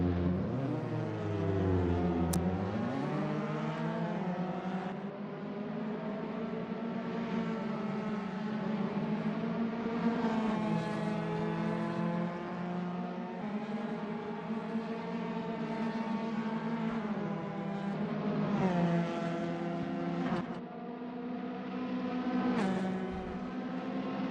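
Historic Alfa Romeo race cars roar around the Anglesey circuit, engines droning loudly and continuously with rising and falling pitch as they shift gears and pass by.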